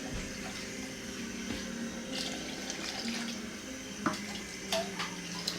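Water is poured into a cooking pot of jollof rice and beans with stockfish, a soft continuous trickle and splash running quietly throughout with a few small clinks near the end.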